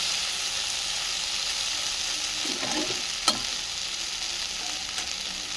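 Taro stolons frying with garlic in a pan, browning: a continuous even sizzle close by, with a single sharp utensil clink partway through and a faint tap near the end, no talking.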